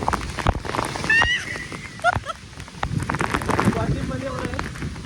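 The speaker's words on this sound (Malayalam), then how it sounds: "നല്ല മഴ കേട്ടോ." Steady heavy rain pours down close by in Lakshadweep, with intermittent voices and a few brief higher calls over the wash of water.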